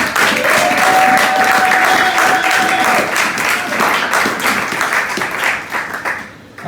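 Sunday church congregation claps loudly in praise, a thick wash of applause with a sustained voice or tone carrying over the first few seconds before the clapping thins and fades.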